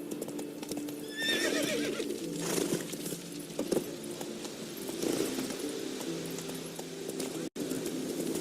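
A horse in The Witcher 3 whinnies loudly at the start, then steady clip-clop hoofbeats continue close by at a walking pace, with faint bird-like coos in the background.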